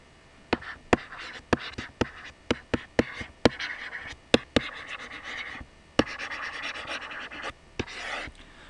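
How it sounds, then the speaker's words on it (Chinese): Chalk or marker writes on a board during a lesson on Gann angle lines. Crisp taps and scratchy strokes come in an irregular rhythm, close and fairly quiet, with no voice. "我把题目写在前面"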